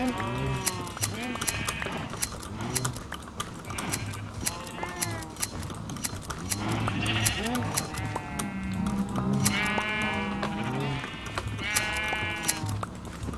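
Repeated sheep bleats from Minecraft livestock, several overlapping calls at moderate volume with a steady game background and occasional clinking.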